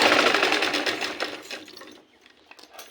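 A sewing machine stitches around all four edges of a sleeve piece, a steady dense run for about two seconds that then stops, leaving a quieter stretch with light handling sounds.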